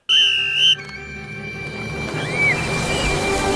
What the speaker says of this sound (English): And he told them whistle commands!